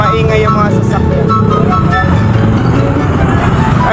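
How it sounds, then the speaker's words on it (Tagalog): Busy road traffic of cars and motorcycles passes continuously nearby on a Philippine street, a steady loud rumble of engines throughout with voices faintly mixed in. "May maingay yung mga sasakyan."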